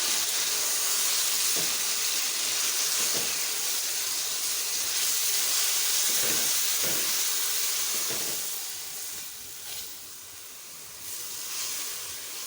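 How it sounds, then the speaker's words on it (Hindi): Continuous loud sizzling hiss of minced mutton frying with garlic and ginger in a hot pan, steady throughout with a few soft stirring knocks, easing slightly toward the end. "अच्छी तरह से लहसुन अदरक के साथ कीमे को भूनें।"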